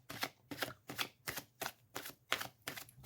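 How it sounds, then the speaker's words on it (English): A deck of Soul's Journey oracle cards shuffled by hand close up, giving about eight quick riffling bursts in a steady, even rhythm with short pauses between them. "we're going to pull more cards for clarity"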